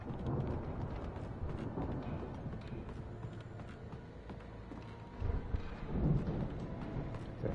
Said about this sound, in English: It's a heck of a storm on the game.